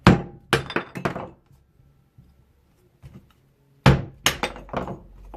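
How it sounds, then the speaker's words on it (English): Mora bushcraft knife with a Scandi grind batoned through wood for kindling, sharp, loud, close thunks striking in two quick clusters of three or four, split by a quieter pause with faint knocks. "A little bit of batoning."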